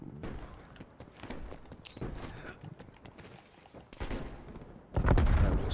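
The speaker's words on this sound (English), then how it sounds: "That was a sniper shot at me." A sniper rifle shot in Call of Duty Black Ops Cold War, a loud sharp crack near the end of a stretch of scattered quieter game noises.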